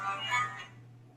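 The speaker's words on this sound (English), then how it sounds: "I gotta remember to turn off my phone next time" A mobile phone ringtone plays briefly, a short bright melodic chime that fades out after about a second over a low steady hum.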